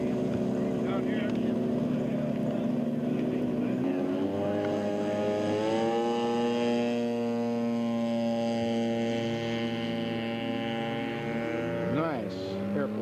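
A scale model airplane flies at a scale aircraft show, its engine a sustained droning whine that shifts pitch as it passes, with people talking nearby.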